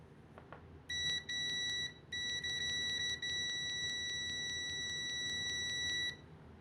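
A LOMVUM T28C multimeter in continuity mode gives a loud, steady high-pitched beep at maximum volume, sounding in a few sustained stretches with brief gaps between them over a faint background.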